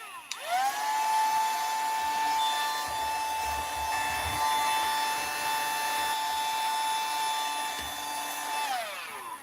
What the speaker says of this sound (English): I'll be able to pick a lot of that extra stuff up with the little vacuum too